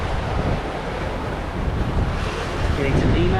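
Wind blowing at 12 to 15 knots and whitecapped waves on the blue Pacific Ocean make a steady, loud, full roar with heavy buffeting on the microphone, building slightly toward the end.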